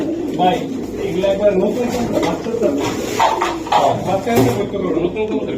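Pakistani Teddy pigeons, males and females, coo in low, throaty murmurs at a pigeon seller's over a busy background of voices and clatter, the calls close and repeated throughout.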